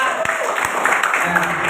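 An Indonesian business seminar audience claps, scattered hand claps under constant room noise, with a voice talking over part of it.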